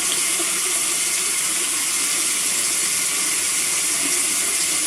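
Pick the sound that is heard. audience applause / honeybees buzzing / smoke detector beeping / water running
water running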